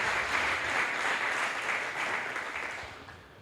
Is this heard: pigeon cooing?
no